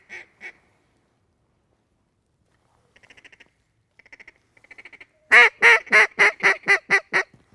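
Mallard ducks call in flooded timber in Arkansas during a hunt. A couple of soft early calls and quiet chattering lead into a loud descending run of about eight raspy quacks at the end, nearby and clear.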